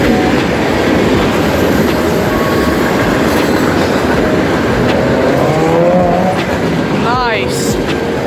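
Freight train rolls past close by, a constant loud roar of engine rumble and rail noise that fills the whole stretch, with a brief squeal rising near the end.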